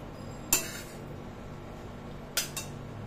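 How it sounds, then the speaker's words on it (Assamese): A bowl is lifted in a home kitchen with two or three sharp clinks of dishes, close by in an otherwise quiet room. "মই এয়া বাতিটো তুলি লৈছোঁ।"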